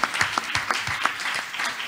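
Short burst of audience applause at a forum on inner rural areas, with distinct, fairly loud individual claps in an uneven rhythm.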